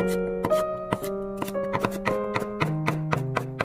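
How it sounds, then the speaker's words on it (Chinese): Kitchen knife rhythmically chopping and mincing four garlic cloves on a cutting board, a steady run of close, sharp taps roughly every half second with no talking. "再准备4瓣大蒜，先切成薄片，再改刀切成蒜末"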